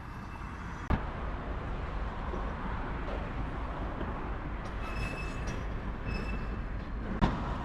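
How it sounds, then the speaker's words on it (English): An old Swiss-built train rumbles past nearby in Georgia, with a steady loud roar, a couple of sharp clanks and faint squealing wheels, no voices. "That train is very old."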